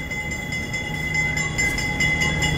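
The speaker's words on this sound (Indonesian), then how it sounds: "ini dia kereta api Mutiara Timur masuk" Mutiara Timur passenger train rolling into Probolinggo station, a steady rumble of wheels with a sustained high tonal whine and faint clanking, fairly close.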